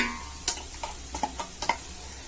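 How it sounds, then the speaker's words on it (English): Ginger garlic paste goes into a hot pan for beef biryani, giving a soft sizzle with a handful of sharp spoon taps and scrapes close by. "I'm going to now put in the ginger garlic paste."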